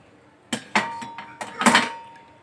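Dishes being washed at home: a handful of metallic clanks and clinks of pots and plates knocked together in quick, uneven succession, close and fairly loud against a quiet background.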